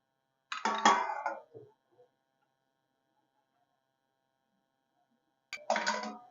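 A metal lid set onto a cooking pot of simmering bhagar on low gas gives two short, bright clinks about five seconds apart, close and clear against near silence.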